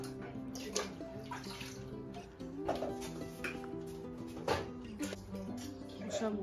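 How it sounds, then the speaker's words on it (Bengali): Water is poured into a household water filter in a home kitchen late at night, a sloshing splash that runs on and off for several seconds beneath steady background music and a voice. "জামাই ফিল্টারে জল দিচ্ছে।"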